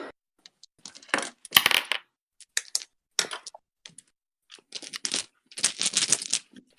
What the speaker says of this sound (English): Hang on, let me bust out the dice.